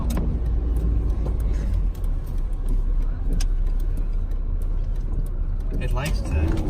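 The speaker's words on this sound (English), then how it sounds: "I know my truck's making noises now" A pickup truck engine rumbles steadily and heavily up close, a low, continuous drone.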